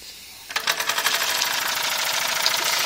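An old steam donkey engine starts up after a brief quiet moment, its cylinder chuffing in a quick, steady rhythm that picks up pace, with constant hissing steam running underneath at close range.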